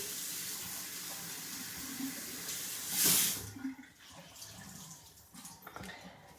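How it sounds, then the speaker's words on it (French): Water runs steadily from a tap while a washcloth rinses a face, with a brief louder splash near the middle before the flow settles again; no one speaks. "Je rince à la débarbouillette."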